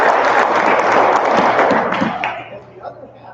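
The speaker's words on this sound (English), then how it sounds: "Let's give them a round of applause." Applause for the seed donors at a Greenhand ceremony: a dense, steady crowd clapping that holds strong, then thins and fades out over the final second.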